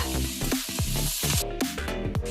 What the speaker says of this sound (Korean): 가지의 표면이 익어서 살짝 부드러워졌다면 피망을 넣고 볶아줍니다